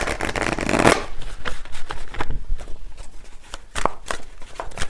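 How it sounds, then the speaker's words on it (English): Tarot cards being shuffled by hand, a dense riffling burst up front followed by softer scattered card flicks and taps, close and clear with no talking. "let me just get a final card here"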